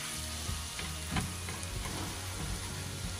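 A spiced filling sizzles and fries in a pan while it is stirred, a dense close crackle with a few soft scraping strokes, brief and without voices.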